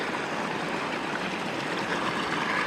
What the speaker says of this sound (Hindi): यहाँ का पानी और इस पानी की खूबसूरत आवाज़।